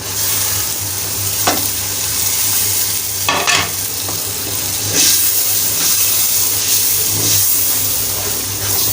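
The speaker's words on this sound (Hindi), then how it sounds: "अब इसमें थोड़ा सा पानी ऐड करूँगी, क्योंकि ये मिर्चें मसाला ना अच्छी तरह भून जाए।" Crushed chilies and tomatoes sizzle steadily in a pan after a splash of water is added, a continuous loud frying hiss with brief stirring bursts and rising steam, no talking.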